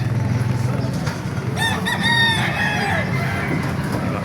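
Gamefowl roosters, including Lemon Hatch, White Kelso and Golden birds, crow at the Baliuag Tyangge market, a close, loud cock-a-doodle-doo over clucking and a steady background crowd hum.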